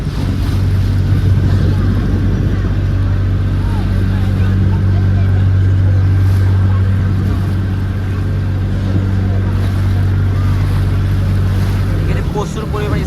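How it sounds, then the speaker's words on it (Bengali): Speedboats race across the water at a Bangladeshi holiday park, a steady low engine drone with wind and wave wash running continuously at moderate loudness, with faint voices now and then. "প্রচুর পরিমাণে স্পিড বোট আছে"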